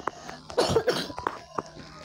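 Several short, husky coughs in a small burst, fairly close and moderately loud, with a brief throaty catch between them and no speech.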